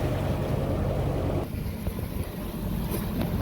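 Sailboat engine running at sea, a low steady motor rumble mixed with wind buffeting the microphone, dipping slightly partway through, with no voices.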